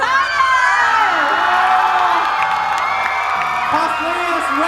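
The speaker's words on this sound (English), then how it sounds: "you have to cheer for very, very loud" Crowd at Nijigen Expo cheering and screaming for cosplayer guests, a loud continuous wash of high excited voices with rising and falling shrieks throughout.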